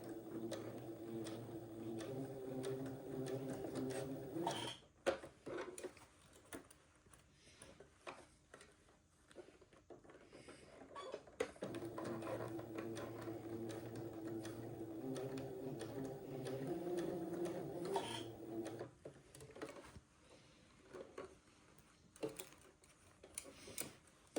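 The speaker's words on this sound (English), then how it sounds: "now I'm kind of pulling and stretching as I sew." A sewing machine stitching an Eton suit whirs in two faint, steady runs of several seconds each, with a quieter pause of ticks and handling noises between them.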